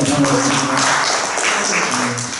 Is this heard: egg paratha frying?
no